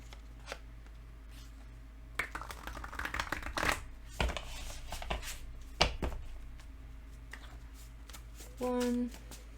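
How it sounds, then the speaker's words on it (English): Love message cards are shuffled close by in a few uneven bursts of rustling and flicking, fairly quiet, followed by a brief tonal beep near the end. "We gotta shuffle these."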